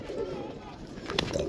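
Pigeons cooing softly in a home loft housing a setup of about forty birds, with low murmuring coos under ongoing nearby talk.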